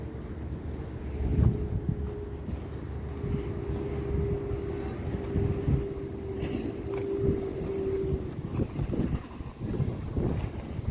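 A ship passes at sea off a beach, a steady low engine drone with a sustained tonal hum lasting most of the stretch, mixed with wind buffeting the microphone and surf, fairly close and loud, no talk.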